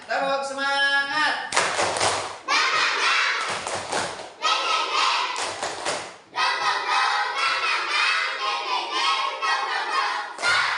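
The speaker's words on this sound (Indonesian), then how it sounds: "Sekarang kita coba melakukan tepuk semangat." A school class performs the 'tepuk semangat' rhythmic clapping routine, bursts of children's clapping and thuds in a patterned sequence alternating with group chanting, with short pauses between sections.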